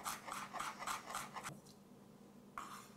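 Fresh ginger is peeled and chopped: rhythmic rasping scrapes repeat several times close by, then pause, then resume briefly, with no talking.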